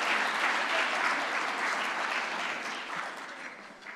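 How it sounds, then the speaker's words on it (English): A conference audience at a high school event applauds steadily, a dense wash of many hands clapping that stays loud and then eases off slightly toward the end, with no voices over it. "Give yourself a hand."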